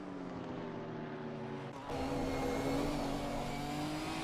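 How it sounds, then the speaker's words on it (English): Ginetta GT4 race car engine in a racing game at Paul Ricard, a steady droning whine that swells louder partway through as the car accelerates, with no talk. "Punchy little motor in that car as well."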